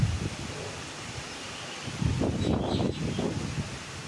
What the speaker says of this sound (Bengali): খুব দমকা দমকা জোরে হাওয়া চালাচ্ছে আর তার সঙ্গে বৃষ্টি হয়েই যাচ্ছে